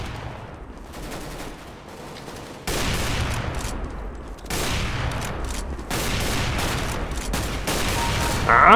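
Gunfire in Counter-Strike: Global Offensive, dense bursts of rapid shots and blasts that shift in intensity across the stretch, loud and continuous with no talk over them.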